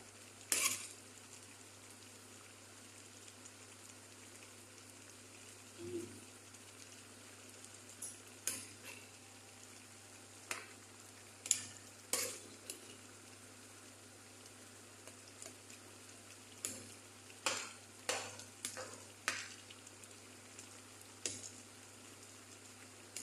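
Moringa leaves cooking in a pan give a faint, steady sizzle, broken by scattered light clinks and scrapes of a utensil stirring. The sound is close but quiet, with no talk.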